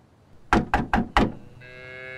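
Four firm, evenly spaced knocks on a thick wooden door of a stone house, close and loud, followed by a steady tonal hum as the knocking stops.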